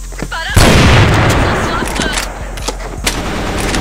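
Loud, dense gunfire in the CrossFire shooter game, with rapid overlapping shots and sharp cracks after a short lead-in. A few louder bursts land near the end. The shooting is close and carries on without a break.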